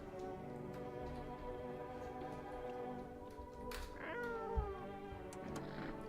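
A cat meows in the game No, I'm Not a Human, a few rising calls over a steady hum of soft rain-like background, fairly close and clear, with no talking.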